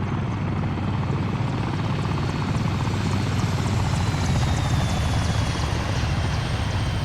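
Constant heavy rotor chop from a helicopter flying overhead in a military video game, loud and close, a dense rhythmic beat that never lets up, with no voices over it.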